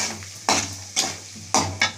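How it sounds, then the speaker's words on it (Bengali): Spice paste with turmeric and sugar frying for a chicken dish, four sharp spatula scrapes against the pan spaced by brief pauses over a low sizzle, close and without speech. "ভালো করে মশলাটা এবার ভেজে নিই"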